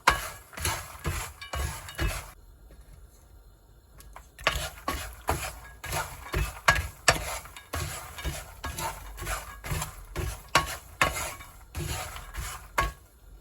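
Peanuts dry-roasting in a pan are stirred steadily, producing a rhythmic run of rattling, scraping strokes close by. There is a short lull near the start, and no talk.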